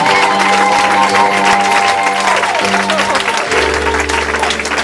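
A church congregation applauding and cheering for the Lord, steady loud clapping and joyful crowd noise over sustained organ or keyboard tones.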